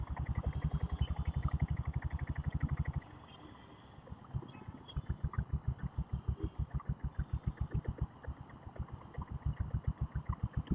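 A diesel Bullet motorcycle engine runs on the road without downshifting, thumping in fast, even, loud pulses. The sound dips briefly partway through, then resumes its rhythmic chugging.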